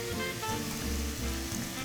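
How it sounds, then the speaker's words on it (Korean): Bacon sizzles and spits steadily in a frying pan, a dense, close crackle with no speech. "베이컨을 구울 거예요."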